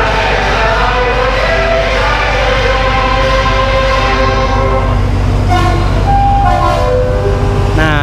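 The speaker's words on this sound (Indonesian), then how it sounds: "Ini kereta kita." A loud sleeper train in Thailand rumbles steadily nearby, with a horn-like tone sounding and faint crowd murmur in the background.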